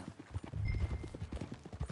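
Horse hooves clip-clop in a steady, close walking rhythm on a trail in the video game Red Dead Redemption 2, loud and continuous under faint game ambience.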